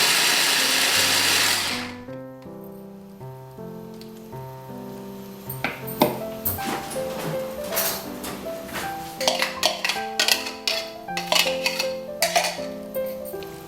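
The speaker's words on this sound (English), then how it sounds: "then just blend it for a few seconds so it turns into a liquid" Kitchen blender whirring through softened tomatoes to turn them into juice for a chicken mince momo marinade, starting loud and steady for about two seconds, then giving way to clinking and tapping kitchen sounds.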